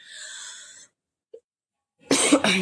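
A woman with a cough lets out a short, forceful cough burst near the end, following a soft hiss and a brief moment of near silence.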